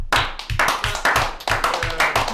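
An audience at an E3 2015 show applauds for Kyle, a steady, rhythmic clapping of several pairs of hands in even beats, close and fairly loud, with no talking over it.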